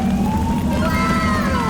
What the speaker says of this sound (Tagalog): dumating ang pulang fire truck. Umaalingaw-ngaw ang sirena.